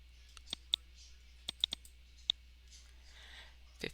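A computer mouse clicks about half a dozen times, faint and sharp, scattered irregularly over a low background hum with no talking.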